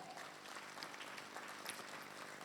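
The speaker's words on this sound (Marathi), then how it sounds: "त्यांच्यासाठी आपण एकदा जोरदार टाळ्या वाजवाच" Audience applause at an annual school fest, a steady dense wash of clapping from a large crowd across the whole stretch, moderately loud with no talk on top.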